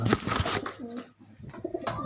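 Soft, low pigeon coos repeat close by, a throaty rolling call that pauses briefly and then resumes.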